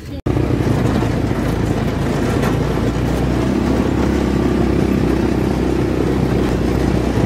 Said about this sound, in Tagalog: Nagsakay kami dito sa motor.